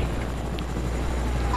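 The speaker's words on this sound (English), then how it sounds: "Get in the chopper." Helicopter in the Fortnite video game, a steady low rotor drone holding at constant loudness throughout, with no talking over it.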